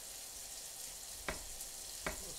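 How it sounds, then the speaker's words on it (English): Meat frying in a pan over turned-up heat, a steady broadband sizzle running throughout with a couple of sharp clicks or pops, no talking. "Now the meat's really picking up. I can hear it sizzling because I turned that heat up."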